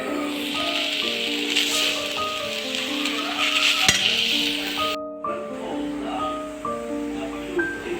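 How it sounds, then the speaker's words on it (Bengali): Bitter gourd frying in a pan, a continuous close sizzle of hot oil with light rattles and clinks from stirring, briefly cut off partway through, with faint talk. "এখন চলছে আমার করলা ভাজা"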